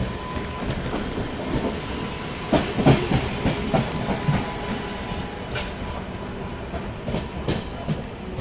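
A Rajdhani Express train runs at speed while overtaking the Shraddha Setu Express on a parallel track, with a steady rolling rumble, hiss and intermittent clicking of wheels over rail joints.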